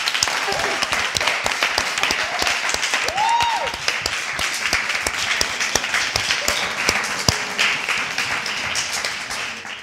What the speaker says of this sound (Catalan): Un aplaudiment per la mama!